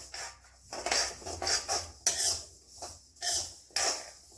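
Sesame seeds go into a pan for dry roasting and are stirred, giving scraping, rustling metal strokes in repeated bursts with brief pauses, close by and moderately loud.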